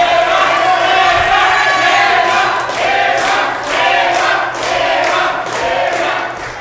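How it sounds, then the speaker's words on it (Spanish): A talk-show studio audience roars for a guest named Israel, loud cheering, whoops and shouting in surging waves with clapping mixed in. "Un aplauso para el señor Israel"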